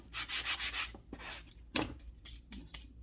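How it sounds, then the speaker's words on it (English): Wooden piece sanded by hand with a sanding block to smooth a small flaw, close and clear: several quick back-and-forth scrubbing strokes in bursts, then short pauses and a few more rubs, no talking. "I'm going to start out with the sanding block, and I'm going to sand this little one down"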